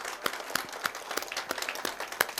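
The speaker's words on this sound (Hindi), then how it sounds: "जोरदार तालियां सचिन के लिए।" An audience at an award ceremony applauds, a scattering of distinct claps from a modest crowd, fairly close and steady for a couple of seconds.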